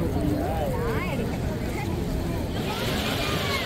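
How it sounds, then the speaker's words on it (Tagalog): A tour boat engine at Niagara Falls rumbles steadily throughout, a continuous low drone mixed with water rush and wind, with crowd chatter and voices in the background. "Yan, umandar na po yung boat."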